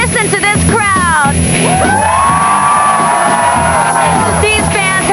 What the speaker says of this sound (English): These fans have whipped themselves into a frenzy in anticipation for some hot bot action.